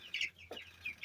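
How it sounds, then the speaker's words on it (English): Meat-bird chickens cluck softly in a small flock on grass, short faint clucks and chirps repeating quickly at a modest distance. "And our third batch of meat birds"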